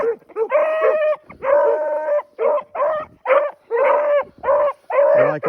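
Seven- to eight-month-old male hound puppies in a starting pen bark and howl in quick, loud, overlapping bursts with brief gaps, close by and continuous.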